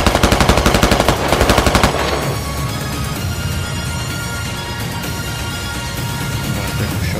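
Sustained automatic gunfire in the Squad video game, loud rapid bursts of shots in the first two seconds followed by continuous dense firing and battle noise.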